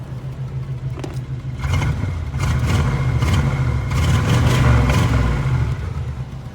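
A 1984 Oldsmobile Cutlass Supreme T-top engine idling smoothly nearby, a steady low rumble that swells slightly partway through.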